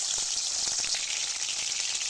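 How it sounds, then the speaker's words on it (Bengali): Shrimp fry in very hot oil in a wok, giving a loud, continuous sizzle with scattered sharp crackles and spits, close up and with no talking. "কড়ার মধ্যে আমি তেল দিয়েছি, তেলটা খুব ভালো করে গরম হয়ে গেছে। এবারে আমি দিয়ে দেবো চিংড়ি মাছ"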